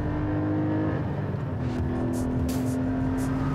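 A Porsche 718 GT4 or Spyder engine drones and climbs in pitch as it revs toward 8,000 rpm on a circuit, loud and close, with a rising tone over a rough, continuous roar.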